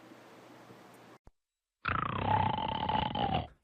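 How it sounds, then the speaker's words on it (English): A person snores, a loud, rough, rasping snore that sounds like a chainsaw and lasts nearly two seconds, close to the microphone, after a faint hiss and a pause. "Does snoring keep you awake or keep you apart?"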